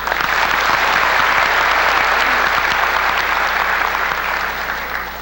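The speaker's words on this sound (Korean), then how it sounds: "여러분 큰 박수 좀 해주시죠" An audience at a public hearing on pharmacists' herbal medicine dispensing gives a big, sustained round of applause that stays loud and dense, easing slightly near the end.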